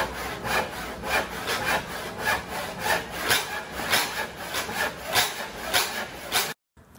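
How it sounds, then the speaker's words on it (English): Hand saw cutting wooden boards for a bench seat, with steady rhythmic back-and-forth rasping strokes close by that stop abruptly near the end. "right here, I'm going to be cutting 3 of them because we're going to edge joint them to create a seat."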